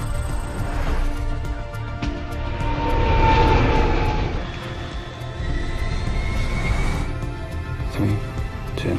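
A fixed-wing airplane landing near an air traffic control tower, its engine roar swelling to a loud peak midway and then fading while a steady drone continues.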